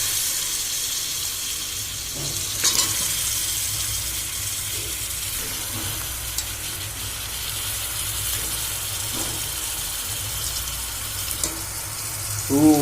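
Pieces of medium-sized goat mutton fry in hot oil with ginger-garlic paste in a pan for a curry, a loud continuous sizzle with occasional scraping and stirring knocks close by.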